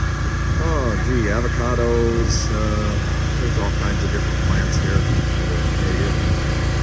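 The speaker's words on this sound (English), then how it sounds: "Sorry for the generator." A generator runs outdoors at a hillside garden in Rizal, Philippines, giving a steady low engine drone with wind noise throughout, while someone talks over it and birds chirp faintly.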